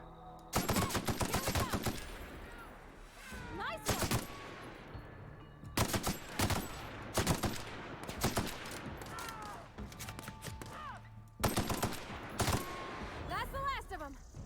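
Gunfire in the video game The Outer Worlds, with several bursts of rapid automatic shots at close range separated by short pauses, together with single sharp cracks and whistling effects.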